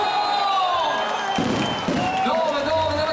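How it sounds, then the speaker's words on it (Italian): A crowd cheers and claps at Gardaland amusement park during its 41st birthday celebration with fireworks, a steady wash of noise under someone talking loudly over it. "Vorrei un applauso!"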